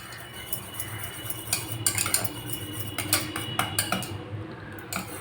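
A whisk working through a thick cornflour and mango mixture in a pan, with quick metallic clinks and scraping strokes in an uneven rhythm, close and clear.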